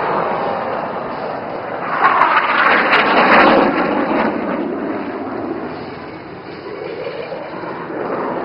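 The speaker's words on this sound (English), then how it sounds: "here comes squadron leader Ankit Vashisht to present the coolest high five in the sky" Military jets in formation flying past at the Aero India air show, Yelahanka, Bangalore, a loud broad roar swelling near the middle and then easing off, with a commentator's voice faintly under it.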